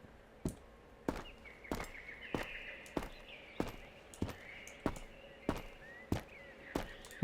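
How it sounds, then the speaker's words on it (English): Regular footsteps in the game Road to Vostok, a steady series of sharp thuds about every half second, coming from below and somewhat muffled over a quiet background hum. "I can hear the pitter-patter of footsteps down below"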